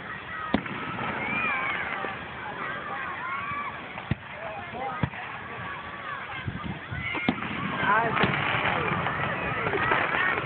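A fireworks show in Terrell, Texas, in 2012, heard as sharp, scattered bangs at a distance beneath steady crowd chatter, with people talking throughout.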